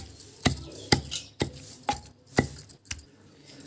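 Mango pickle being pounded in a stone mortar for an Andhra-style mango pachadi, a steady series of about eight sharp, close thuds with a gritty clink, evenly spaced, with no talking.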